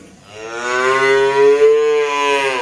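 One long, loud, close moo with a rich harmonic tone, from a cow in a cattle pen on a farm that raises and sells calves and sacrificial cattle.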